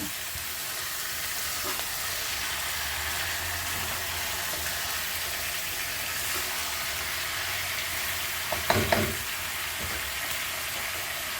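Steady frying hiss from a pan of dhaba-style chicken curry, continuous and even, with a short cluster of stirring scrapes and clanks near the end, close by and without speech.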